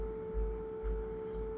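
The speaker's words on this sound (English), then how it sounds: "I'm using Old Faithful, which is just a 440 hertz sine wave" A clean 440 Hz sine wave test tone, a steady and pure unbroken pitch that holds at an even level, with a low thumping hum pulsing faintly underneath.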